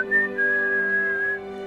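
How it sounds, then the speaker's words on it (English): Whistled secret motif between husband and wife presented within orchestral music, a clear sustained high whistle line sliding over held string chords, close and prominent. "where we hear their secret whistle."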